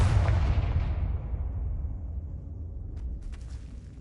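A Confringo fire spell bursts in Hogwarts Legacy, a loud booming explosion that rolls away into a long rumbling decay, with a few sharp crackles near the end.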